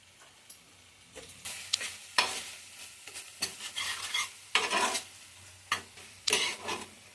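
Peas, chopped coriander and green chilli are stir-fried into a spice paste in a pan, heard as uneven scraping bursts of a spoon and a soft sizzle, close and fairly quiet, with no talking.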